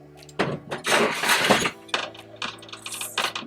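Air fryer basket pulled out so Brussels sprouts can be stirred and flipped, giving a loud scraping, rattling rush of metal and tumbling sprouts that then settles into lighter clinks and shuffles.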